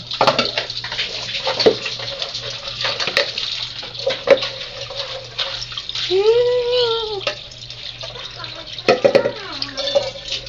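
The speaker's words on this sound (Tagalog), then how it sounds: "Maghuhugas naman tayo ngayon ng pinagsabunan." Running water splashes steadily as soaped laundry is rinsed by hand in a basin, with sloshing and dripping through the clip and a voice speaking briefly in the background.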